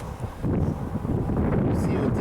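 Wind gusts buffet the microphone outdoors at a shooting range, a steady low rumbling roar through the whole short stretch, with a voice speaking under it.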